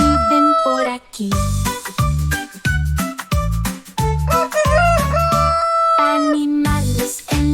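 Rooster crowing cock-a-doodle-doo within a children's farm-animal song, repeated crow-like calls set against bouncy music with a steady beat throughout.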